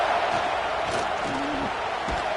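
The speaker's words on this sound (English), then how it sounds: "Decibels rising as the crowd gets behind this defense on 3rd down." A stadium crowd at an Ohio State vs Penn State college football game roars steadily for the defense on third down, a dense, continuous wall of cheering and noise with no pauses.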